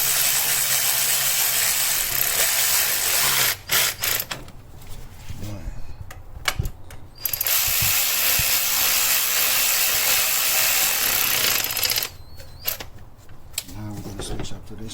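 Rapid mechanical clicking and whirring of a ratchet wrench loosening Loctite-secured valve cover bolts on a Toyota 4Runner 4.0L, coming in long loud bursts with short pauses between.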